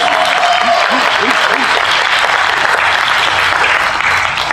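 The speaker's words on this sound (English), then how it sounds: "So give them a big round of applause" Loud crowd applause at a fan convention's closing ceremony, a dense sustained roar of clapping with some cheering, while a brief voice-like tone rises near the start.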